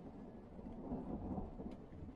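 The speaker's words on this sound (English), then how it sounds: "Can you hear the thunder?" A low, faint rumble of thunder rolls on for about two seconds in a spring cartoon scene, soft and distant, with no voices over it.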